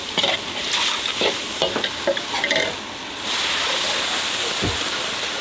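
Jungle curry paste, made with frog, is stirred and fried in a hot wok at a Thai street-food stall in Kanchanaburi, giving a steady loud sizzle broken by scraping strokes of the spatula.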